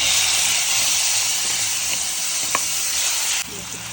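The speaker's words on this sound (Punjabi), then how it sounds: "ਇਧਰ ਆਪਾਂ ਕੜਾਈ ਦੇ ਵਿੱਚ ਲਾਵਾਂਗੇ ਨਾ ਤੜਕਾ ਤੇਲ ਆਪਣਾ ਹੋ ਗਿਆ ਗਰਮ" Loud, continuous sizzling of a tempering in hot oil in a kadai for raw mango chutney, close up and steady, easing slightly just before the end.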